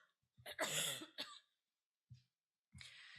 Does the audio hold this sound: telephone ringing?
no